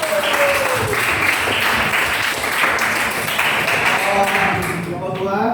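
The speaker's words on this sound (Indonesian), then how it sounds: "Tepuk tangan dulu dong" Classroom applause from students in a biology lesson, a dense steady wash of clapping lasting several seconds, with a rising and falling tone and some voices mixed underneath.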